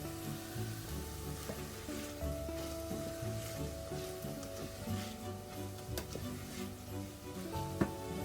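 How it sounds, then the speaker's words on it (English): Food sizzles steadily in butter in a hot pan, a continuous crackling hiss with occasional sharper pops and clinks. "so they're starting to sizzle"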